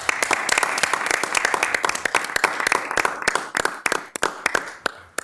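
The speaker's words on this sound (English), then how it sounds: "he deserves an applause from the city council" Small-group clapping fills a city council meeting room, with sharp individual claps from a modest number of people ringing fairly close for about five seconds before thinning out.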